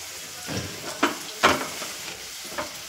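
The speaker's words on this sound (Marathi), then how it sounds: "तर हे बघा मस्त अशी भाकर भाजती आहे" Bhakri flatbread roasts on a pan with a quiet crackle and a few distinct scraping or pressing bursts at irregular intervals, no voices.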